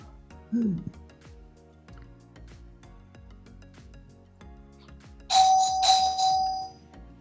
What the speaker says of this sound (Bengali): কারোর বাসায় কলিং বেল বাজতেছে, আমরা শুনতে পাচ্ছি।